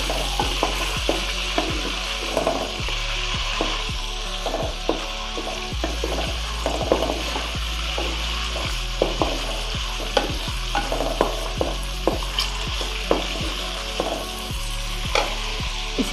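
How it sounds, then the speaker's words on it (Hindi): Meat sizzles steadily in hot oil for bhindi gosht, Lahori style, while a spoon scrapes and stirs the pan in regular clattering strokes, close and continuous with no talk. "इसके अंदर शामिल करेंगे गोश्त, थोड़ा सा इसको फ्राई करेंगे 2-3 मिनट के लिए।"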